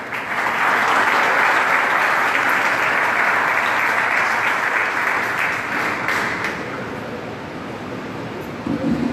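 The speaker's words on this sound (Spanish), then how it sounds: "Vamos a recibirlo con un fuerte aplauso." Sustained applause from an auditorium audience welcoming the federal labor delegate of Quintana Roo at an award ceremony, loud and dense throughout, easing slightly toward the end.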